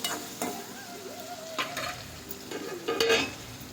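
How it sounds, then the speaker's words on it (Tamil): Cooked tomatoes in a pan are stirred lightly over a soft sizzle, with a few scraping strokes of the spoon at irregular intervals, close and moderately quiet. "தக்காளி நல்லா வெந்துடுச்சுங்க. லைட்டாக கிளறி விட்டுக்கலாம்."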